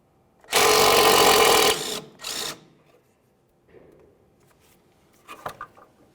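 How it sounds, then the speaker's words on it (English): A 10mm wrench works loose the emergency brake cable bracket on a 2002-2005 Ford Explorer during rear knuckle replacement, heard as a loud rapid ratcheting burst followed by a shorter one, then quieter clicks and metallic taps nearby. "We're going to go ahead and remove this bracket for our emergency brake cable. We'll use a 10mm for that."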